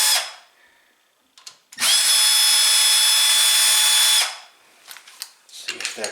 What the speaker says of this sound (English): I got a big number 3 bit in there, and we'll just unscrew these.